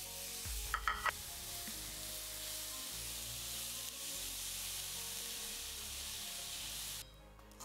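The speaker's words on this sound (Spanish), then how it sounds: "en el mismo aceite se rehoga la cebolla" Chopped onion sautés in hot oil left over from frying veal fillets for a Christmas veal fricandó with mushrooms, a steady close sizzle with brief stirring clatter near the start.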